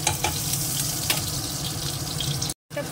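Butter melting into hot oil in a wok, a steady close sizzle and crackle with a brief dropout near the end before the frying resumes.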